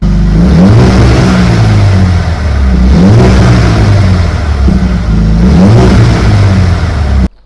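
A 2021 Mercedes-AMG CLA 35's engine revs repeatedly nearby, its deep sports exhaust roaring up and falling back in loud, steady surges.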